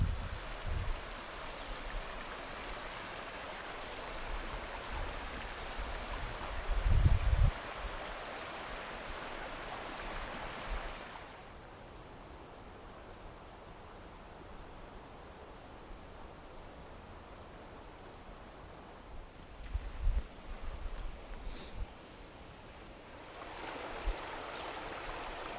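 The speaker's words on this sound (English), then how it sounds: "I'll show you the view over here of the creek" A creek along the Appalachian Trail in Tennessee rushes with a steady broadband wash for about ten seconds, then fades to quieter background before the flowing water returns near the end.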